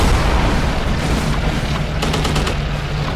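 Aircraft guns in Dogfight 1942 firing as a loud, steady rattle over a roaring engine drone, with a quick burst of distinct shots near the end.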